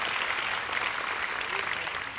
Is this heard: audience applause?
yes